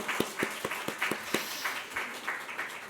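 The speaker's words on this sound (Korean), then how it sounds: "박수로 한번 격려하겠습니다" A church congregation at a Sunday service claps to encourage students who have just finished their exams, a faint, steady patter of many hands with a few sharper claps standing out, heard from a distance.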